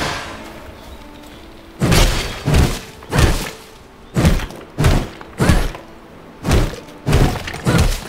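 A wooden palisade wall being smashed down in the V Rising survival game: a series of heavy, dull thuds and cracking blows in irregular pairs and clusters, loud and close, with no talk over them.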